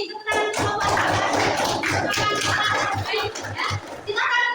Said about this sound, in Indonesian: Tepuk tangan untuk kelompok Abu Bakar.